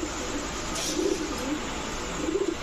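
Domestic pigeons, including a black male, coo softly and steadily in a loft, a low repeated throaty cooing with brief swells, with no voices.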